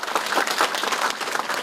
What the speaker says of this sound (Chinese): 我们用掌声来表达对他们的一个肯定